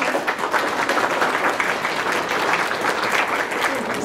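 Sustained, dense applause from an audience at an art exhibition opening for artist Cristina Cioabă, steady and fairly loud throughout with no pause.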